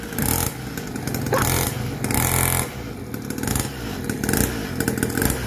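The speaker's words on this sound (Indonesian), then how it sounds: "Motornya sudah hidup." Mini trail motorcycle, brought back after sitting dead for two years, runs with a loud, continuous engine note, rising and falling in short revs up close, with a bit of clatter and no talk over it.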